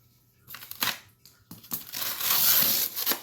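Scissors snip and tear through packing tape on a cardboard shipping box, a few short crunchy cuts followed by a longer loud ripping, crinkling stretch, close up with no talking.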